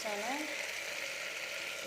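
Potato pieces fry in a pan while chickpeas and potatoes are cooked, giving a steady close sizzle throughout with a brief voice-like tone at the start.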